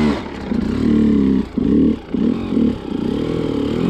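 An enduro motorcycle revs in short repeated bursts while being ridden, the engine rising and dropping several times in quick succession, near and fairly loud.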